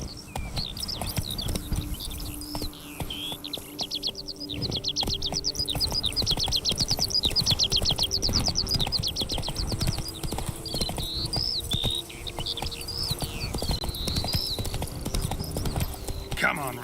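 Roach the horse's hooves clip-clopping in a rapid steady gallop in The Witcher 3, close and continuous, with bird chirps trilling above and voices talking over the hoofbeats.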